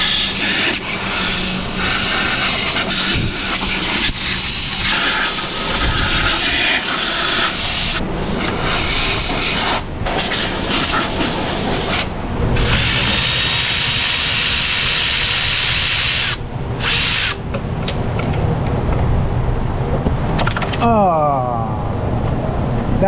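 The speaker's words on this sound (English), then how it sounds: "I'm gonna blow it off with shop air now, get all the dirt and debris out of the way." Compressed shop air blasts dirt and debris off a truck engine in an auto repair shop, a loud, close hiss in long bursts with brief pauses between them and someone talking at times.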